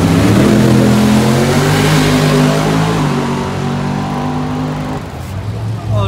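A twin-turbo Chevrolet Caprice drag car idles and revs loudly at a drag strip, its deep engine drone steady and close before easing slightly near the end.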